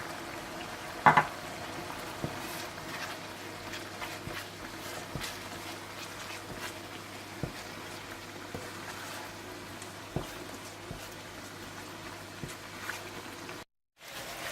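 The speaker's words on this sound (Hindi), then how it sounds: "हल्दी पाउडर, जीरा पाउडर, धनिया पाउडर और नमक डालकर अच्छी तरह से भून लें।" Spice powders (red chilli, turmeric, cumin, coriander) and salt frying in oil for fish curry, a soft low sizzle with scattered spatula scrapes and taps against the pan, fairly quiet and steady throughout.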